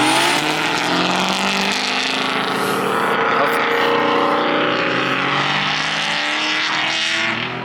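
Two drift cars battle side by side, a Nissan S14 and an LS-powered car, engines screaming loud and continuous with revving swells and tire noise, close by, while a voice talks briefly underneath.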